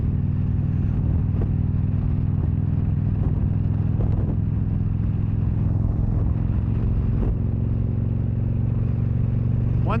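A 2013 Victory Cross Country Tour motorcycle engine running steadily, a continuous low rumbling drone with a few faint clicks, fairly close and unchanging.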